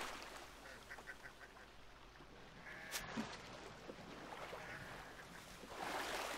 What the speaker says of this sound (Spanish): Hostia, que hay pato